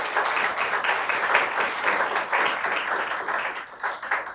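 A church congregation at a Sunday service claps together in a sustained, lively burst. Many hands make a thick, continuous patter at a steady level throughout, with no speech on top.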